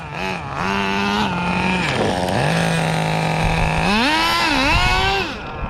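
Nitro engine of a Tamiya Terra Crusher 1/8 scale RC monster truck, loud and close, buzzing steadily then revving up and down in pitch several times, heard alone without talk.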